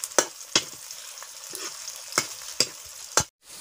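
Mango pieces and onion masala cooking in a pan, a quiet sizzle broken by about six sharp spatula taps and scrapes at irregular intervals, ending abruptly, no talking.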